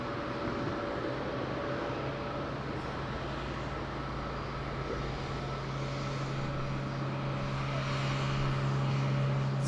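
An Edelweiss airliner at Madeira Island Airport, its jet engines a steady, broad roar from a distance that swells slightly toward the end as the aircraft readies for takeoff.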